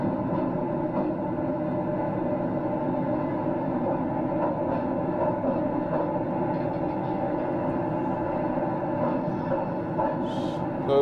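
A train runs on rails with a steady, unbroken rumble and hum that holds at an even level throughout, with no talking.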